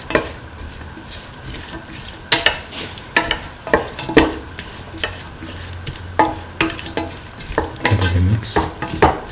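Beef with green peas and green chili frying in a pan, stirred with repeated scraping strokes over a steady close sizzle, with occasional utensil clinks against the pan.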